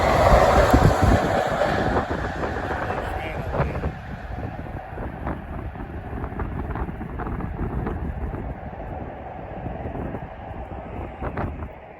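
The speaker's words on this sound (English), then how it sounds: "It's a freight train that goes over there." A freight train rolls past on tracks beside a monorail in a city rail corridor, a steady broadband rumble with wind buffeting the microphone, strongest at the start and holding at a moderate level with a few brief clanks.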